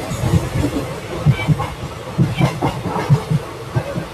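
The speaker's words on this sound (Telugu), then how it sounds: "Bhimavaram Kittayya home town railway స్టేషన్కి స్వాగతం, సుస్వాగతం" A Mysuru–Kakinada special train rolls into Bhimavaram railway station, its wheels knocking over rail joints in a steady, close clickety-clack rhythm with no talk.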